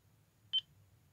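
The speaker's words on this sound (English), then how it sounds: "which is stick at middle, which is the center beep" A Jeti radio control transmitter emits a single short, high electronic beep as the stick passes its center point, quiet and isolated against a low background hum.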